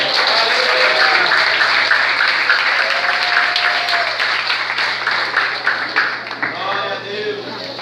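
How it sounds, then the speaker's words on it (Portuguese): A church congregation claps continuously, a loud dense wash of hand claps with speech-like voices mixed in, the clapping thinning slightly toward the end. "Clap your hands for Jesus."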